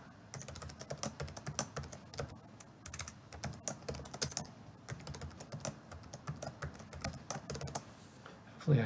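Soft, close keystrokes on a computer keyboard while a username is entered, steady irregular tapping with brief pauses, fairly faint and without talking.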